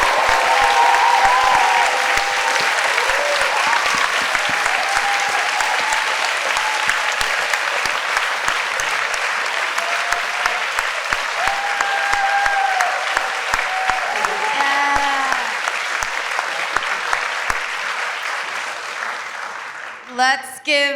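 A crowd at an anti-imperialist rally applauds its speakers. Steady, sustained clapping fills nearly the whole stretch, with voices and cheers mixed in, before a brief final flurry.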